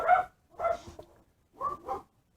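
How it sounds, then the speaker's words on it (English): Dogs bark while chasing squirrels, giving four short, fairly close woofs in two pairs with a brief pause between them. No voices are heard. "there we have the dogs chasing squirrels"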